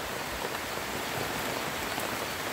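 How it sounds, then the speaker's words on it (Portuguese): Steady rain falling at a rural farm, a dense, even hiss of drops with no letup, close and moderately loud. "E a chuva chegou."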